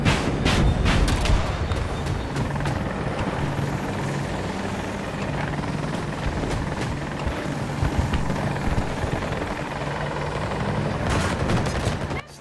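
An Apache helicopter's rotor thumps continuously in the foreground of a video game, with sharp bursts of gunfire and explosions from missiles and rockets cutting through, loud.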